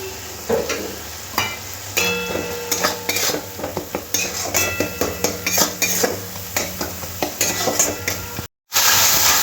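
Spice paste for aar fish curry sizzles in a pan while a metal spoon stirs and scrapes it in a steady rhythm, with sharp clinks against the pan and a constant frying hiss.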